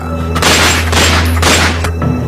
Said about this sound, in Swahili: Milio ya risasi yasikika kwa mujibu wa baadhi ya watu waliokuwepo